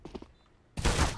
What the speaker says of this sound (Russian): Он просто на шару начал, стрелял 2 патрона и в меня попал.